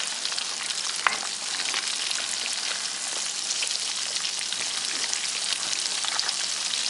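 Breaded Polish kotlety cutlets fry in oil in a wok, giving a continuous dense crackle and sizzle with occasional sharper pops, close and steady throughout.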